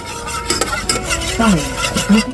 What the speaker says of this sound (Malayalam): വെള്ളം ഒഴിച്ച് ജാഗരി പൗഡർ ഇടുന്ന ഇളക്കുവാണ്